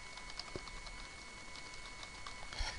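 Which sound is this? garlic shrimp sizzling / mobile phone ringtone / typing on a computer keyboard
typing on a computer keyboard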